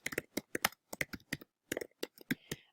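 Keys clack on a computer keyboard in close, crisp bursts, with quick clusters and short pauses between them in a quiet room.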